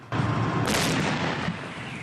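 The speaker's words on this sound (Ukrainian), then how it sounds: "Стріляють гаубиці мало не 24 години" A single howitzer artillery round fires with a sudden deep boom, followed by a rolling, fading rumble that echoes over open ground.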